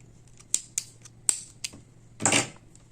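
Scissors snip through crochet yarn at the end of a granny square on a patchwork cardigan, a few short sharp clicks followed by one longer, louder crunching cut, close and alone in a quiet room.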